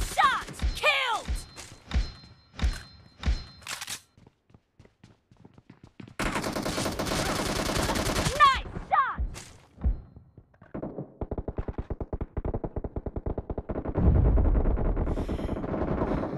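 Gunfire in PUBG Mobile on the new Hangar TDM map: separate single shots, then long bursts of rapid automatic fire and further volleys, with brief in-game sounds between.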